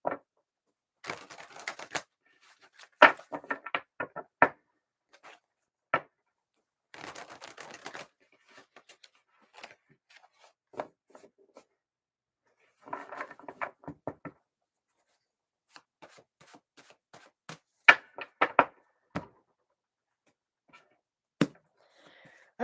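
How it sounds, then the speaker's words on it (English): Tarot cards are shuffled in short, crisp riffling bursts separated by quiet pauses, close and fairly soft, with no talking. "Just feels like it needs a couple more shuffles."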